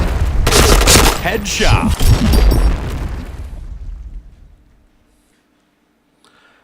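A grenade goes off in the shooter game Point Blank: a loud, close blast mixed with gunfire that rumbles on for a few seconds before fading to near silence, with a brief voice over the din.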